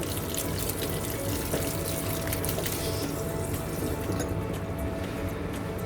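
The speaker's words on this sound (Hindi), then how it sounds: "उसके बाद फिर वो ही गर्म पानी आना शुरू हो जाता है।" Water runs steadily from a kitchen tap, a continuous loud gushing stream with no breaks and no talking.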